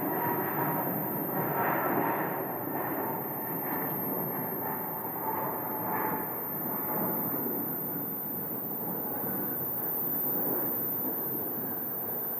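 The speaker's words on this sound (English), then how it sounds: "we have an American departing for Newark, right there with another American landing" American Airlines jets depart and land at Phoenix airport, a continuous far-off roar of jet engines that gently rises and falls for the whole stretch with no voices over it.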